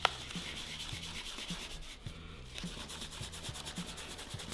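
Mixed epoxy stirred with a small stir stick, giving soft repeated scraping and rubbing strokes in a steady rhythm, close and quiet, with no voices.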